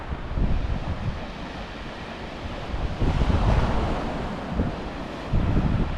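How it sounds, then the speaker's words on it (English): Wind blows along a sea coast on a bright day, a steady breezy rush with low gusts that rise and fall. Surf washes faintly beneath it, and no one speaks. "And that wind's dropped a bit."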